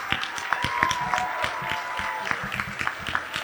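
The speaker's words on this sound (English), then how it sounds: "let's applaud for these ladies because they worked really hard on the cookie table" Guests at a toast applaud the women who made the cookie table, with scattered, uneven hand claps from a small indoor crowd, moderately close and steady throughout.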